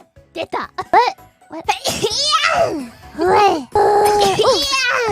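A girl sneezes sharply several times in quick succession near the start, followed by her lively chatter and exclamations, with a second voice briefly answering.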